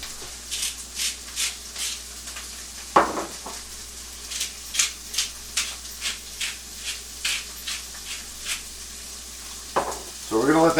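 Peppers and onions sizzle in a pan for a New England steak and cheese, with a constant frying hiss and a regular series of scraping stirs, plus a few louder clanks of utensil on pan.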